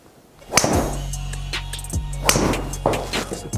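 A golf driver, Callaway Mavrik or TaylorMade SIM, strikes a ball off the toe with a sharp crack, followed by a low hum and another faint impact later, close by.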